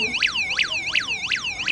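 Tuya smart home alarm system siren wailing in rapid repeated rising-and-falling sweeps, about five cycles, loud and close with no talk.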